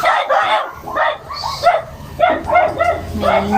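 A dog barks and yips repeatedly at close range, in quick uneven bursts, with some whimpering mixed in.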